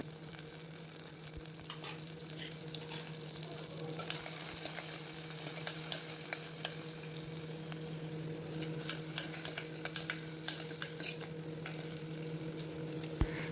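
Tomatoes sizzle and fry steadily in a pan, a constant crackling hiss with occasional stirring clicks.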